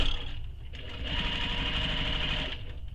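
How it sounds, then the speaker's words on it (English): A sewing machine runs steadily, top stitching a panel of a mini messenger bag with a fast, even mechanical whir that eases off near the end. "So now I'm going to top stitch that panel."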